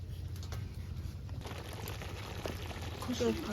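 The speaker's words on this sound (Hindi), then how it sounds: "गाइस देखो मटन को अच्छे से पकाया जा रहा है" Mutton curry with papaya simmers in a pot on a clay stove, a steady soft bubbling and hiss that runs throughout with faint clinks, while a voice talks over it.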